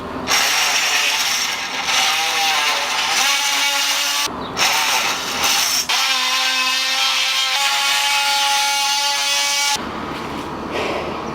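Continuous loud metal-on-metal cutting and grinding as a car's catalytic converter is sawed off, a harsh sustained rasp with brief pauses and shifting pitch, close up and without talk.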